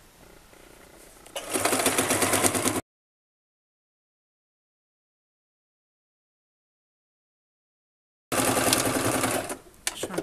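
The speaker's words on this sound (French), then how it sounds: "je plante mon aiguille, je lève le pied presseur et je tourne." Sewing machine stitching fabric for a bag, running in two loud, steady whirring bursts split by a long stretch of silence, with some faint handling noise before the first burst.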